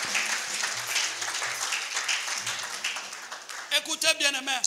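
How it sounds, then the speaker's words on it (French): A church congregation applauds in a steady wash of clapping, with a voice breaking in near the end over the applause. "Acclame 3 fois le Seigneur. Giving applause to the Lord."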